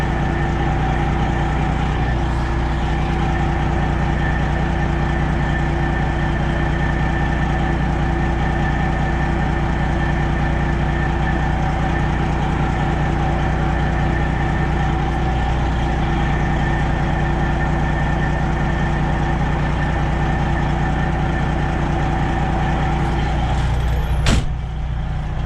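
A Freightliner Classic semi truck's engine idles while backing up in a yard, a steady low droning rumble heard close and unbroken throughout, with a brief click near the end.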